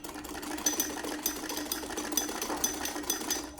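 A sewing machine stitches a seam on a belt-style shalwar, giving a steady, close mechanical whir with a fast repeating needle rhythm and no voices.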